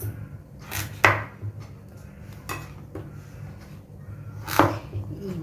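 A knife chops a vegetable into pieces for Telugu pulusu, giving a few sharp, separate cuts against a board, close and clear over a low steady hum.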